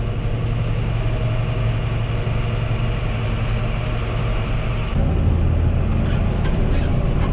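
A Kubota skid loader on the move, its engine a steady loud drone close by, shifting tone partway through, with no talking.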